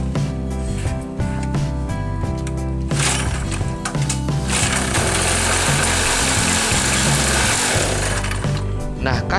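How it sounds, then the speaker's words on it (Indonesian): A small two-stroke generator engine sputters to life after priming, running with a buzzing, rapid mechanical drone that stays loud and close for several seconds. "ketika diberi teknik pancingan hidup mesin hanya sebentar"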